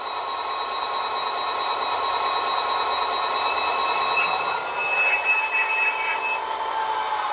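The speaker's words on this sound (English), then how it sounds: "You'll hear that brake squeal right away." Continuous high metallic brake squeal from an Athearn SD40 model diesel locomotive's sound decoder, shrill steady tones over a hissing rumble, loud and close, shifting slightly in pitch near the end.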